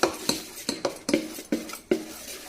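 Spoon scraping and clinking against a bowl while mixing pesarattu batter with green chillies and ginger, about seven sharp, evenly spaced knocks, close and clear with no talk.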